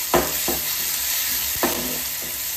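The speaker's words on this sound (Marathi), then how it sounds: "टोमॅटो सुद्धा चांगला असा तेलामध्ये परतवून घेणार आहोत" Tomatoes sautéing in oil in a pan for a sprouted moong amti, with a steady close sizzle broken by several sharp scrapes of a spatula stirring.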